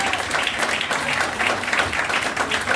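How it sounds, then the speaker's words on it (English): An audience at a book launch in Lagos breaks into sustained, dense applause, many hands clapping loudly and steadily throughout, with a few voices mixed in. "A resounding round of applause for her."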